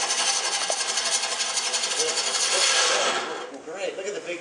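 Deep hollowing tool cutting into wood on a lathe, a loud, continuous scraping hiss that drops off near the end.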